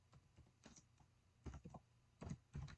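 A computer keyboard is typed on while entering spreadsheet data, in short, faint bursts of quick key taps separated by brief pauses.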